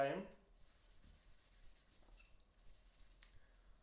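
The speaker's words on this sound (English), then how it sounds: "take your block of rosin and rub it up nicely" A block of rosin rubbed along the hair of a bow for a bowed lyre such as a tagelharpa or jouhikko, giving faint, soft scratchy strokes, very quiet and close.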